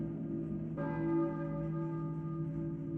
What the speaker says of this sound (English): Ah, the church bells.